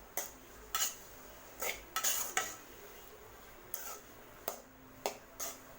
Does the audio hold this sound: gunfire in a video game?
no